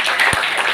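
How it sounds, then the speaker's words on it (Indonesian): Brief burst of audience applause at an evening public discussion forum, dense clapping close by and at an even level for under a second. "Tepuk tangan untuk kita semuanya."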